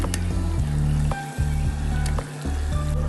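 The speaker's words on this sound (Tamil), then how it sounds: "எல்லாத்தையும் மிக்ஸ் பண்ணிவிட்டு நாம் எடுத்து வச்ச 1/2 கிலோ மட்டனையும் இதோட சேர்த்துடலாம்" Half a kilo of mutton going into a pot of biryani masala for Muslim-style mutton biryani, with steady sizzling and frying and a few stirring scrapes, close up with no talk.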